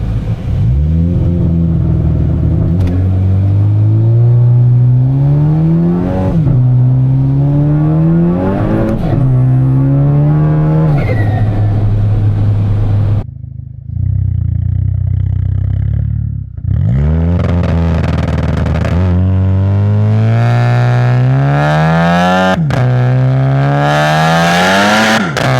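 A big-turbo MK6 VW GLI roars through repeated hard pulls while driving, its exhaust rising in pitch with each gear before dropping at the shifts, with a brief lift-off lull midway, loud and close to the exhaust mic.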